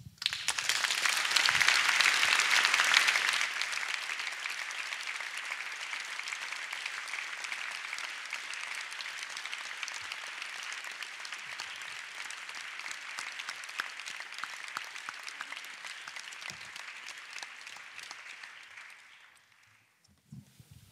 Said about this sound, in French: Madame la ministre, ces applaudissements sont le reflet de ce que je disais